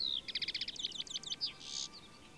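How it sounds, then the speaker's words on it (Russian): A European goldfinch sings a quick, bright twittering phrase of rapid repeated trills and chirps, close and clear over faint background hiss. "Пение щегла можно услышать в любой сезон года."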